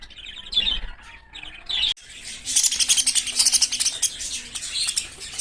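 Backyard-bred English budgies and TCB budgerigars chirp and twitter in quick overlapping bursts, close and lively. After a brief pause the chatter grows more constant and busy, with no talk over it.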